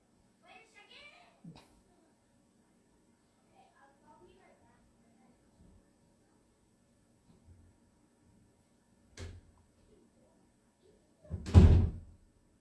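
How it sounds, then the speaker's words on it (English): An interior door in a home is pushed shut with a single loud, heavy slam near the end, after soft, scattered speech and a quieter earlier thump. "Carter Ray, close your door please."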